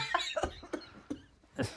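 A short fit of coughing follows wheezing laughter, a few sharp bursts close to the mic with breathy gasps between them.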